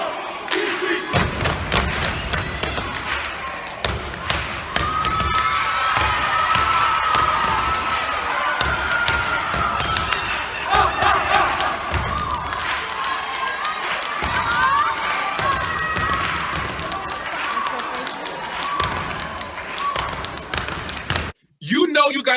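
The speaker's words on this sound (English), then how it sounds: "The crowd is clapping." A performance crowd claps in steady rhythm along to a musical beat, sharp dense hand claps over loud music, with cheering and shouting voices throughout.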